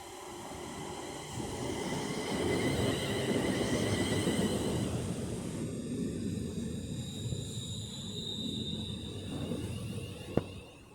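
A train rumbles loudly past at Stoke-on-Trent station, a heavy rolling roar that swells then fades into a quieter electric whine and hum, with a sharp click near the end.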